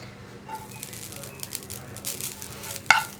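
Grated coconut warms in a pan while being stirred, giving a soft low sizzle with light scraping strokes and a sharp utensil tap near the end, close and fairly quiet.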